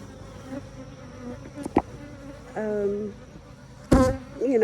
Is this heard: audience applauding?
no